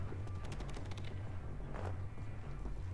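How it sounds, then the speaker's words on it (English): Gunfire from the video game Wolfenstein: The New Order, a quick burst of rapid shots over a steady low game hum, then a fainter single report later on, heard at moderate loudness with no speech. "I heard gunfire!"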